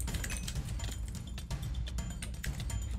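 Rapid, dense computer keyboard clatter from a Minecraft Skywars PvP match played across three keyboards at once, continuous clicking over a low background hum with no talk.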